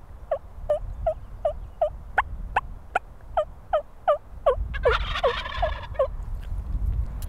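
A wild turkey in the early morning gives a rapid run of about fifteen evenly spaced yelping gobble notes, loud and close, with a rougher gobbling burst near the end.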